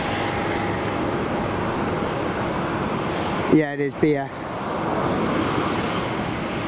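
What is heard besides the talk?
airplane at Tenerife South Airport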